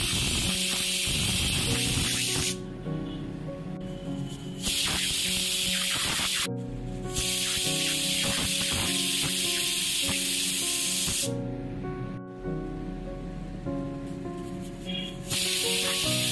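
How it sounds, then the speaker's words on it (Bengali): A pressure cooker on high flame cooking mutton curry hisses steadily and loudly, with the steam cutting out briefly several times before resuming, alone with no voices. "প্রেসার কুকারটা বন্ধ করে আমি 4খানা সিটি দিয়ে দিয়েছি।"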